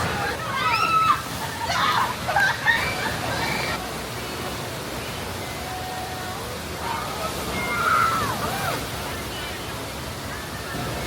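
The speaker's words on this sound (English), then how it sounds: "I've decided I'm going to have a go on the rapids here at Dollywood" Water churns and sloshes steadily around a raft on the Smoky Mountain River Rampage rapids ride at Dollywood, with a louder rush of splashing early on and excited voices mixed into the continuous roar.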